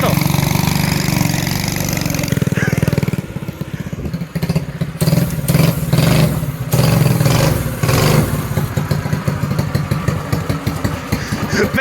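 An 8 HP scooter engine runs at full throttle, a loud, steady buzzing drone that dips briefly and then returns with a rough, pulsing roar. Voices are heard over it.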